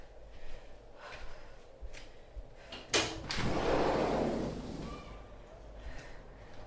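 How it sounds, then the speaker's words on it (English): A sliding door at home is pulled open with a sharp clack, then a rushing whoosh of outside air and ambient noise that swells and fades over a couple of seconds, amid quiet room sounds. "I'm going to open up this sliding door."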